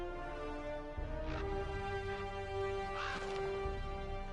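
A bird in the video game Dragon Age caws a few times, harsh and crow-like, over a steady droning background.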